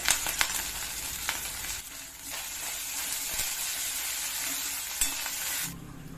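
Onion fries in hot oil with ginger garlic paste and curry leaves, a loud continuous sizzle with crackles and occasional stirring scrapes, quieting abruptly near the end.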